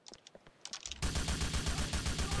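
Rapid automatic gunfire from a weapon in GTA The Lost and Damned, starting abruptly after quiet footsteps and continuing loud and steady as a dense burst of shots.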